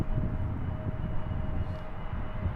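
Swiss A320neo jet arriving at Heathrow from Stockholm, a distant steady engine rumble with a faint thin whine held throughout.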